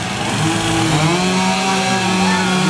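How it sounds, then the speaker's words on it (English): A chainsaw engine runs steadily at a high, buzzing pitch at a lumberjack show at a spring fair, loud and close, holding a continuous drone the whole time. "They got to get their chainsaw and start that up"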